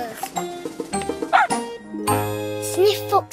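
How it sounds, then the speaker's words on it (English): A cartoon dog from Charlie and Lola gives a few short, bright barks and yips between children's voices speaking nearby, the barks close and clear amid light jingling. "Good dog, Sizzles."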